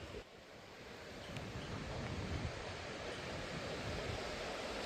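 Gusty wind and surf roll on a Vancouver Island beach, a steady broad rushing with wind buffeting the microphone, building slightly after the first second and staying fairly quiet, with no talk.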